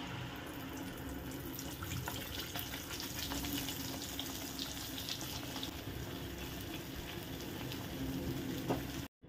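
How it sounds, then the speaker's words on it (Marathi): Masala paste sautéing in oil with cumin and a bay leaf in a pan, a steady, dense sizzle and crackle that continues without a break for several seconds. "मसाल्याला तेल सुटेपर्यंत छान परतून घेऊयात।"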